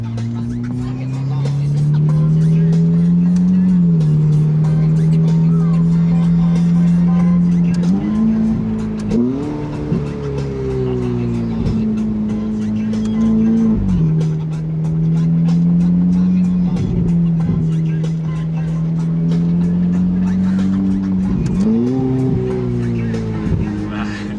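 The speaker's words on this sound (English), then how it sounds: "You feel the engine braking as well." A Ferrari 488 engine drones loudly and steadily, its pitch dropping and rising through gear changes as it engine-brakes, with faint voices underneath.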